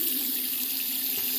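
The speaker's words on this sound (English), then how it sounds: "The water is draining properly" Tap water runs steadily into a bathroom sink and drains away, a close, constant hiss and rush of flowing water with no talking.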